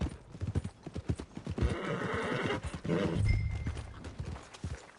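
Horse hooves clip-clopping in the Western video game Red Dead Redemption 2, a run of close, uneven hoof strikes with a short whinny partway through, against a soft game ambience.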